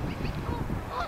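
A goose at a pond honks in a short, loud burst of repeated calls, heard close and alone without talk.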